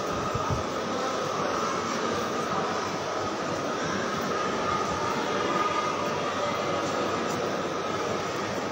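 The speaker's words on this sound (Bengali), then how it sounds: "দেখো ট্রেন ঢুকে গেছে" A train pulling into Sealdah station at night gives a steady, loud rumble of wheels and engine that fills the whole stretch, with a busy platform around it and no talk heard.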